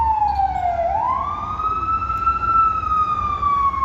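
A passing ambulance siren wails steadily on a street in Quetzaltenango, Guatemala, dipping and then sliding up into a long sustained tone as it passes, loud over a low road rumble.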